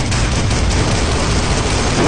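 Gunfire in the video game Free Fire: a loud, dense burst of rapid shots that continues without a break for the whole stretch, with no talk.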